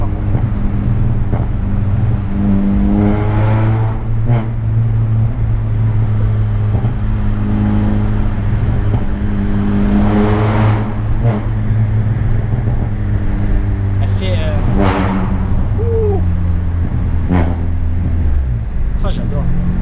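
A Peugeot 106 with a stock exhaust revs hard inside a tunnel, the engine note rising and falling loudly and echoing, with pops and crackles on the overrun and voices talking over it.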